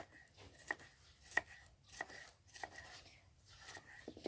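A knife chops ingredients for a laab on a board, about seven evenly spaced, fairly quiet strokes with short gaps between them, in a quiet room.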